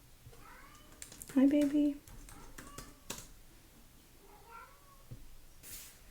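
A cat meows once, a short loud call close by, with a quieter mew later, while someone speaks softly and keyboard clicks and tapping sound indoors.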